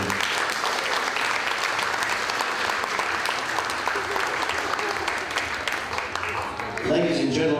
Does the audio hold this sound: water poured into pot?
no